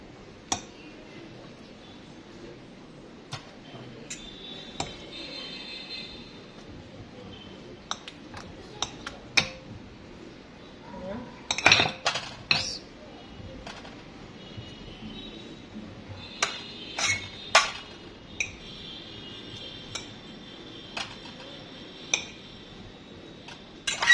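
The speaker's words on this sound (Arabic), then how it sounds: "هجيبه هرصه هنا في الصينيه جنب البطاطس" Boiled artichokes set into a baking tray beside potatoes, with a few scattered clinks and taps of metal and dishware against a quiet kitchen background and no talking.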